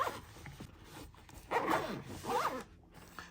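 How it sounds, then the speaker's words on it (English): A camera case for a DJI Osmo gets zipped shut, with a few quick zipper pulls, close and clear, the last two strokes louder. "And zip this up."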